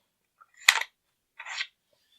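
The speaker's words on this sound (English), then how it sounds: "And we're just going to slide the bolt carrier group right back." Metal parts of a Sig 556 rifle's bolt carrier group sliding back during disassembly: two short close mechanical scrapes with a sharp click at the start of the first, quiet otherwise and no talking.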